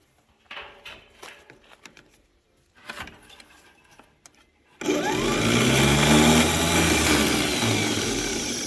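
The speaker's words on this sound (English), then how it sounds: "Is that what a starter motor is supposed to sound like?" A 1938 Chevy Master Deluxe that has sat since the 1970s, its starter motor cranking loudly and steadily in a sustained grinding whir that begins abruptly after several seconds of quiet handling noises.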